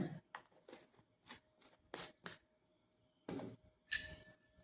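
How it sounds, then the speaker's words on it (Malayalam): A spoon scoops baking soda into a bowl of onion juice in a quiet kitchen, making a few soft, scattered clinks and taps. One brighter clink comes near the end. "ഞാൻ ദേ ഒരു സ്പൂൺ ഒരു ഒന്നര സ്പൂൺ ഇടുന്നുണ്ട് നമ്മുടെ ബേക്കിംഗ് സോഡ ഇടുന്നുണ്ട്"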